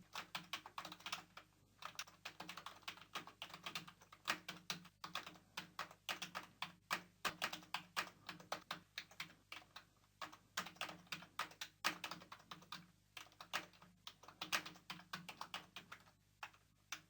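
Close, steady typing of code on a computer keyboard, with rapid irregular key clicks in bursts and short pauses throughout and no voice.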